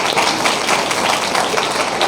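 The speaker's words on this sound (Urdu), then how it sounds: "آئیے زوردار تالیاں اپنے لیے۔" Church congregation giving loud applause during a sermon, a dense, continuous wash of clapping from many hands, close and unbroken for its whole length.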